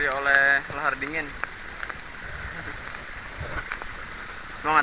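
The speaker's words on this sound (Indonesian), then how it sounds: "Karena hujan yang semakin deras, kami pun memutuskan untuk menggunakan jas hujan." Heavy rain falls on the Bambangan trail up Mount Slamet, a steady broadband wash of downpour under and around voices, with talk and a brief melodic tone near the start before the rain carries on alone.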